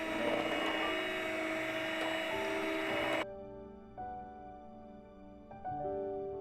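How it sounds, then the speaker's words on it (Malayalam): An electric beater whips cream in a bowl with a steady, close whirring drone that cuts off abruptly partway through. Brief softer motor bursts follow. "ബീറ്റർ ഉപയോഗിച്ചോ അല്ലെങ്കിൽ വിസ്ക് ഉപയോഗിച്ചോ നമുക്ക് വിപ്പിംഗ് ക്രീം ഒന്ന് ബീറ്റ് ചെയ്തെടുക്കാം"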